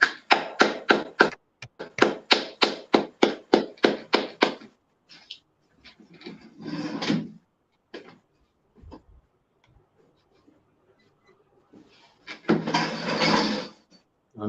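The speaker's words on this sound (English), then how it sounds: "All right, clap it up." Audience clapping at a church class gathering: a steady run of rhythmic, evenly spaced claps that stops, followed by a few scattered taps and two short bursts of looser group applause.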